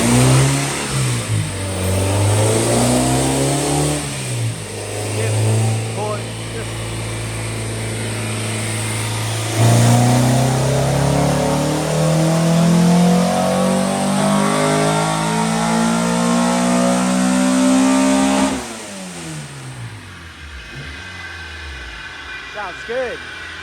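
A car engine revs up and settles repeatedly after an idle adjustment, its pitch climbing and dropping in loud, close sweeps, with a voice talking over parts of it.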